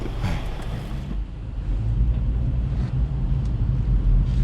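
A low, steady engine rumble of a Chevrolet Cruze idling, heard from inside the car with some wind-like noise and no talking.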